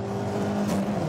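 A car engine hums and builds speed on a busy motorway, a steady close drone with a rising whine as it accelerates, heard alone without talk.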